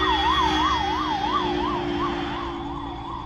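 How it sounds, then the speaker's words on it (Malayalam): An ambulance siren wails loud and close in a steady rising-and-falling cycle over road traffic noise, with no voices, easing slightly as it goes past. "ഒരു ആംബുലൻസ്."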